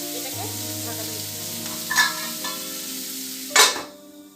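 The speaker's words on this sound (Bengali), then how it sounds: "তরকারিগুলো একটু ভাজা ভাজা হোক" Vegetables sizzle steadily in a hot pan, with a couple of brief louder spatters partway through.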